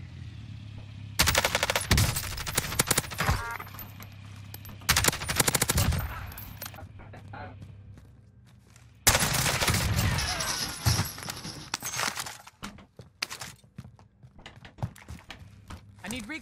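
Rapid bursts of suppressed AS VAL rifle fire in Warzone, the video game, come in several loud volleys with quieter gaps of game ambience between them.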